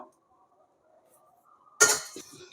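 Coriander seeds dropped into a pan for dry roasting over low heat; after near silence a sudden loud burst of crackling and sizzling breaks out and keeps going more softly.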